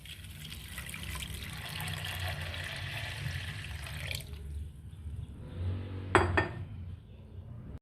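Two cups of water pour steadily into a container for several seconds while making chicken shami kabab, followed by a brief metallic clatter of a pot or utensil nearby.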